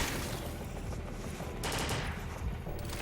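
Rapid gunfire from shooting zombies in the game Foreign Legion: Multi-Massacre, with quick bursts over a dense, loud, continuous game soundscape.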